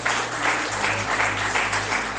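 A church congregation applauds during a sermon, filling the room with loud, continuous clapping that rises and falls in dense waves for a couple of seconds.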